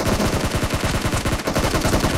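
Rapid, loud bursts of automatic gunfire from the PUBG video game crackle in a fast, steady stream of shots close up.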